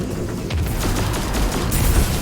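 Shotgun fire in a Destiny 2 firefight: dense, loud overlapping gunfire and booms fill the whole stretch, with a heavy low-end thump near the end.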